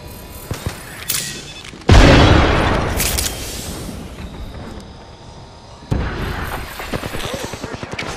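A frag grenade goes off in the Apex Legends video game, a sudden loud boom with a long decaying rumble, set amid scattered gunshots and followed later by another heavy blast.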